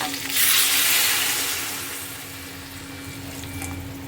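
Hot water poured into a cooking pan on a gas stove that held hilsa fish, rising into a loud splashing hiss that swells, then settles into a softer, steady bubbling simmer, close by without speech.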